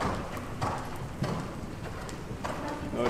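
A horse gallops around an indoor riding arena during a dressage lesson in Sottens, its hoofbeats thudding in a steady rhythmic clip-clop at moderate distance over a faint room hum.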